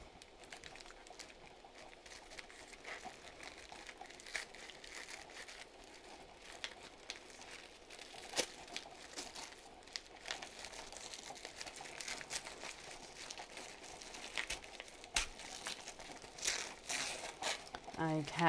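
Dark green wrapping paper crinkles and rustles as a package is unwrapped, quiet scattered crackles and crisp bursts that grow busier toward the end, close but soft, with a voice talking over parts of it.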